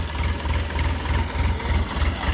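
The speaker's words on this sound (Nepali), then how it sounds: "ट्र्याक्टर पनि आइपुग्यो भर्खरै यता बाँस लिएर" A tractor loaded with bamboo idles close by, its engine putting out a low, pulsing thrum with a steady knocking rhythm and no voices over it.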